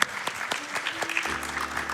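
A large audience claps steadily and loudly at a speedrun charity gaming event after a one-handed Super Mario World run, the applause dense and continuous throughout.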